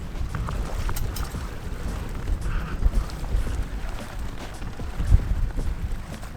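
A low, steady engine rumble churns beneath wind and water noise as a motorboat reverses, its motor droning continuously up close.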